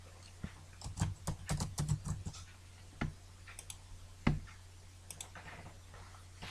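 Scattered clicks from a computer keyboard, a quick cluster of keystrokes followed by isolated single taps, close and fairly quiet against a low steady hum, with no talk.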